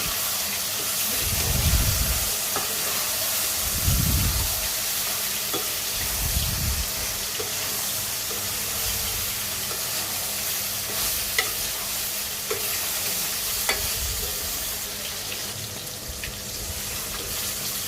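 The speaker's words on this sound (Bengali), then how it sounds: "একটু পর পর উঠিয়ে নেড়ে চেড়ে দিব" Repeated low scraping stirs in a pan of tomato curry, about three slow strokes early on, over a steady background hiss of cooking with occasional small clicks.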